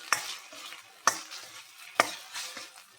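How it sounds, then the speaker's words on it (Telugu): Ginger garlic paste frying in a pan, with a low sizzle and three sharp stirring scrapes about a second apart, quiet and close. "దీన్ని కూడా కొంచెం అల్లం వెల్లిగడ్డ పేస్ట్ వేసిన కనుక కొద్దిగా ఫ్రై చేసుకోవాలి"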